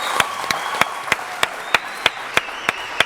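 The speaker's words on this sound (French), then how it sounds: "On va applaudir très fort." Sharp, evenly spaced claps beat in unison about three times per second over a steady background hum, like an audience clapping along together at a broadcast event.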